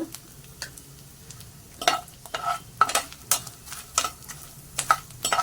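Fenugreek seeds dry-roast in a pan over low heat, stirred in a run of sharp, irregular scraping and tapping strokes against the pan, close and clear over a quiet background.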